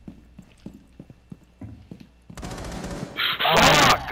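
Video game gunfire in Rainbow Six Siege: after a few seconds of quiet footsteps, a loud, dense burst of rapid automatic shots erupts and builds into sustained close firing.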